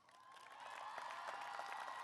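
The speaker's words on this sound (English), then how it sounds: "please rise and be recognized with a round of applause" A crowd applauds at the May 2019 JMU College of Arts and Letters commencement ceremony, a faint, distant spatter of clapping that builds slightly and holds steady.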